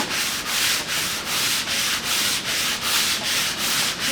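Rhythmic sandpaper strokes at 120 grit sanding fibreglass fairing on a wooden sailboat hull, close and loud, with about ten steady back-and-forth rubs and no talking.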